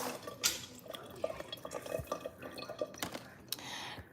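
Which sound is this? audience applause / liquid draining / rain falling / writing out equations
liquid draining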